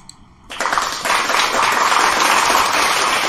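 Hand clapping demonstrated as a sound source in a primary-school science lesson, starting abruptly after a short quiet moment and continuing as steady, dense, loud applause-like clapping throughout.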